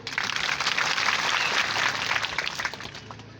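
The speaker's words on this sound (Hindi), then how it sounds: "ताली बजाओ जोरदार।" Dense applause from an outdoor crowd at a ground-breaking ceremony in India, steady and sustained throughout before easing slightly at the end.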